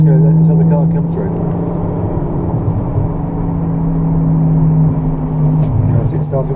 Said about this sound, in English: We're just going to let this other car come through.